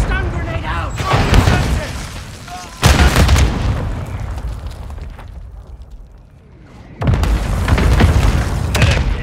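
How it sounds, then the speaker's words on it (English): Heavy booming mortar explosions in Call of Duty: Modern Warfare II hardcore Hardpoint multiplayer on the El Asilo map, several loud blasts separated by short lulls with rumbling tails. "Mortar strike. Enemy target at the hardpoint."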